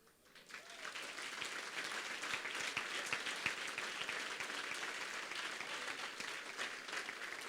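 A church congregation breaks into applause during a celebration service, dense sustained clapping swelling quickly and holding steady, heard from within the crowd.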